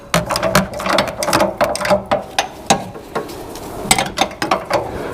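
Bolt on a Porsche Boxster 981 GTS sports exhaust being worked with a spanner and ratchet, close, loud bursts of quick mechanical clicking in uneven runs.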